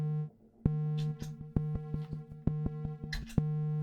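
An Empress Zoia effects pedal running a delay patch gives a steady synthetic tone with repeating struck notes, each followed by echoing pulses that keep sounding at an even rhythm, close and clear with no talking.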